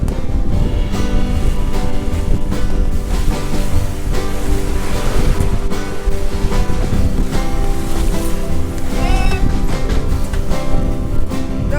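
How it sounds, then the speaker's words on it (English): A sailboat rocks in strong wind and big ocean waves coming from two sides, with a constant loud roar of surf and wind buffeting the microphone, plus creaks and knocks from the hull, no talking. "we have like 2 different waves coming from different sides, so it's like shaking a lot"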